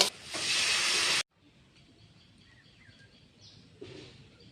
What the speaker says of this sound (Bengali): ভালো করে নাড়াচাড়া করে আমি জল দিয়ে দেব